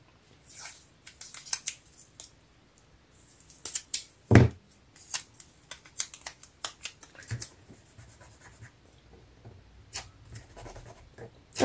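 A craft knife slices through decorative scrapbooking paper in a string of short, crisp scratching strokes, close and fairly quiet, with irregular rhythm and one louder thud partway through.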